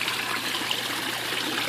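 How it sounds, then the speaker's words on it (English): Small backyard waterfall spilling into a garden pond, a steady close wash of trickling water with no breaks, loud and continuous with nothing else audible. "just a quick vid on the waterfall"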